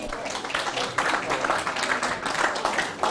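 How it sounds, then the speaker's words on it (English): Audience applause for mediums at a live demonstration evening, a dense, continuous patter of many hands clapping in a room, mixed with a voice speaking. "let's give all our wonderful mediums another round of applause for this evening"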